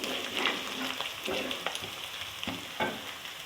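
Ginger frying in a pan for a cabbage and chicken dish, giving a steady sizzle with occasional stirring scrapes and crackles across the short clip, no voices.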